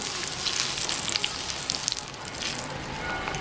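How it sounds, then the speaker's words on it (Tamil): Vegetables frying in oil in a pan for a sambal, a steady broadband sizzle with crackling pops throughout, close and fairly loud with no voices. "நல்லா தோல் வதங்க மட்டும் இந்த எண்ணெயில் வதக்கட்டும்."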